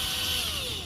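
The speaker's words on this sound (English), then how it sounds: "wire brush with a drill just to clean out all this gunk." A power drill whines at high speed with a harsh, scratching hiss as a wire brush scrubs gunk from metal on a Toyota Camry's cooling system, steady and close.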